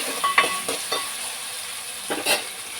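Ginger garlic paste sizzling in a hot pan, a soft steady hiss broken by a few quick scrapes and taps of stirring, close and alone.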